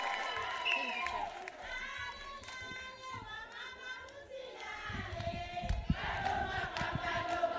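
Crowd clapping and cheering for a speaker at a UDA political rally, a mix of applause, shouts and voices that grows louder and denser in the second half, with talk mixed in.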